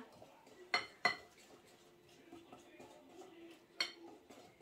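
Chicken, potato and zucchini gratin ingredients are stirred in a dish, with a few sharp utensil clinks against the dish over a quiet background.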